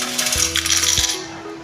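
Coins drop into a coin-operated luggage locker in Kanazawa, Japan, two or three sharp metallic clinks and a short rattle as they fall inside, close and distinct over a steady background hum.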